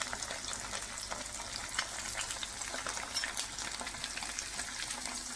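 Fish fries in spiced oil as it is turned over in the pan, giving a steady close sizzle and crackle with small scraping stir sounds, without talk.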